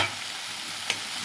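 Keema curry sizzling and frying in a pan while being stirred, a steady close hiss with one brief scrape partway through.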